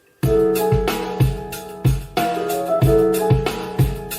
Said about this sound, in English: there's an option where you can take a sample and you can actually stretch it out to where it actually lines up with the